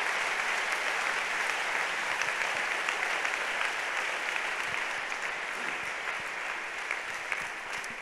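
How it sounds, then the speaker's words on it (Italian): A church congregation applauds steadily during a Yom Kippur sermon, a dense, even wash of clapping holding for several seconds with no voices over it. "Facciamo un applauso al nostro Re."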